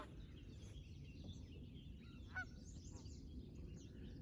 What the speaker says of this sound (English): Looks like the geese are coming in. We've got a geese beacon going off.